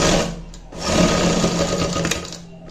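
A simple sewing machine stitches a hook eye onto a blouse, its close, loud mechanical whirr running in a steady rapid rhythm, pausing briefly near the start and then continuing to the end.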